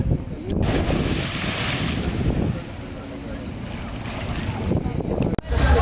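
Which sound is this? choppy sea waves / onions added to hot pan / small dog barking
choppy sea waves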